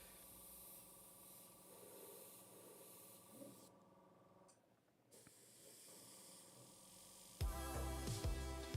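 An airbrush sprays dark paint onto a sci-fi lander model, giving a steady, quiet hiss that drops out briefly and then comes back louder and harsher near the end.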